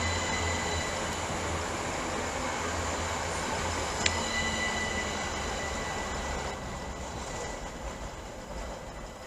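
Class 387 electric trains running through Ely station, a steady rumble of wheels on rails with a brief sharp squeal midway, continuous and fairly close with no talk.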